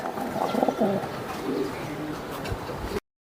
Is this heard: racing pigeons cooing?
yes